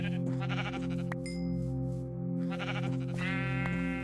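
Sheep in Minecraft with the Lord of the Rings mod bleat repeatedly, several wavering bleats in a row, clear and close with no talking.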